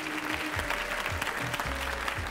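Audience applause for two volunteers at a magic show, a steady dense clapping wash lasting throughout, with low rumbling thumps underneath and no clear speech.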